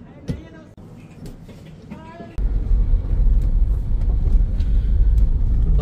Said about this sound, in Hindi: भाई रोड टेस्ट कर रहे हैं,